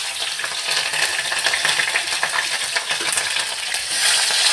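Peanuts, chana dal and green chillies sizzle in a pan while being stirred, a continuous bright crackle with scraping and light clinks close by, no voices.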